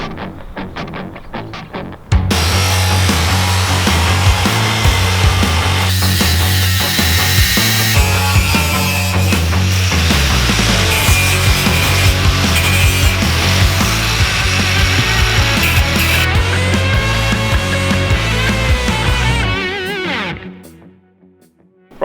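A loud power drill drives a hole saw through metal C channel on a mutant vehicle build for AfrikaBurn. The grinding whine runs steadily for about eighteen seconds with no talk, then spins down and stops.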